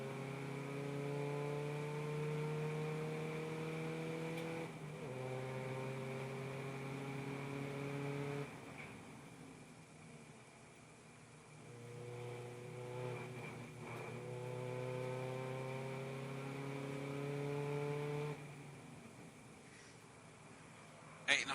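Racing car engines drone and shift through gears in repeated rising sweeps, one car after another passing, with a brief gap between them, during a mixed-car MSVT SuperCup race at Brands Hatch GP circuit.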